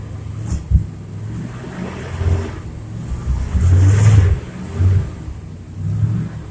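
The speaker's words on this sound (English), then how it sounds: "it's a 78 Chevy truck with a 71 307 in it out of a Nova and a 350 Turbo out of the same car" A 1978 Chevrolet C10 Stepside truck, in rough condition, with a 1971 307 V8 and 350 Turbo transmission taken from a Nova, idling after a cold start with a few uneven revs rising and falling, loud and close.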